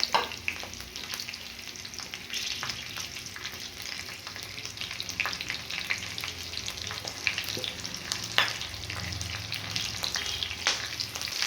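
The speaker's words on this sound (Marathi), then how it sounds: "खालची बाजू व्यवस्थित आपण शेकून घ्यायची आहे मिरचीची एक साइड व्यवस्थित परतली गेली की मगच आपण मिरच्या पलटी मारायच्या आहेत" Stuffed green chillies coated in masala sizzle and fry in a pan with a steady crackle. Occasional scrapes and stirring clicks sit on top, and no one speaks.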